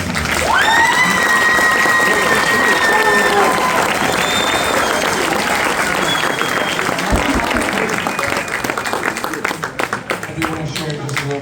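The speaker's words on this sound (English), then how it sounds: "How about another round of applause for all these singers?" An audience at a high school wind symphony concert bursts into sustained applause and cheering for the singers, with whoops and shouts over dense clapping that thins out toward the end.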